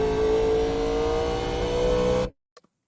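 A NASCAR Legends stock car engine held at full throttle in the iRacing simulator at Nashville Fairgrounds, a loud, steady high-revving drone that cuts off abruptly, followed by a couple of faint short sounds.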